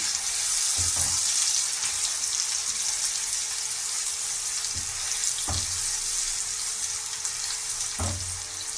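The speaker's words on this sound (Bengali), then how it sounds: "একটু নেড়ে চেড়ে নিয়ে পেঁয়াজ কুচনো দিলাম।" Chopped onions fry in a pan for dhaba-style palak paneer, a constant bright sizzle broken by a few soft thumps and scrapes as they are stirred.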